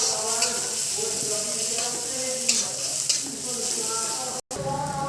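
Vegetables with fried spice mix and a little turmeric are stirred and sizzling in a pan, with steady frying crackle and spoon scrapes throughout and a brief dropout near the end.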